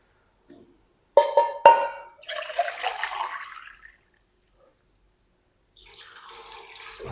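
Water, about seven to eight glasses, is poured from glasses into a pot of chicken for yakhni broth, coming in splashing bursts: a sharp double splash, a sustained gushing pour, a pause, then another pour, close up with no talking.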